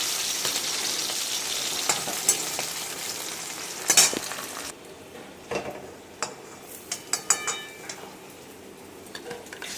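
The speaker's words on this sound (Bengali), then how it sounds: "কাঁকড়গুলো সুন্দর করে লাল লাল করে ভেজে নেবে" Crabs fry in a pan, hissing and sizzling steadily up close while a utensil clinks and scrapes against the metal now and then. No talking is heard.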